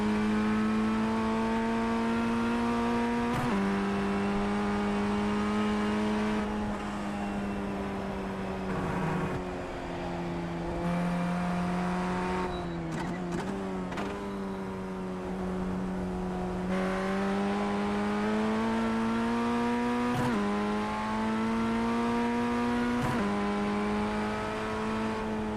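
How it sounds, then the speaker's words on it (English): An F1600 race car in iRacing lapping Oulton Park International Circuit on cold tires gives a loud, continuous engine drone, its pitch climbing and then dropping sharply at several gear shifts, with no talking over it. "I let it rev a little higher than usual."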